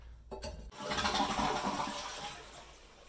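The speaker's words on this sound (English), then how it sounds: "give the toilet bowl a flush to make sure that there's no more water in the actual pipe" A toilet flushed during bidet installation, with a clunk of the handle followed by a rushing swirl of water that swells then gradually fades, moderately quiet and close, no voices.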